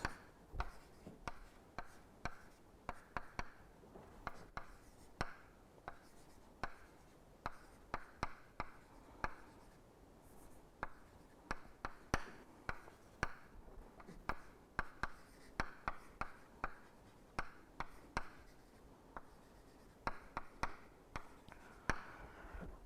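Steady scratching and tapping of writing during a lecture on Fourier series and transforms, dozens of close, quiet strokes in uneven bursts for over twenty seconds with no speech.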